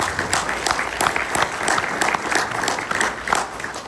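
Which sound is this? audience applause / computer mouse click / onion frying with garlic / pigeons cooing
audience applause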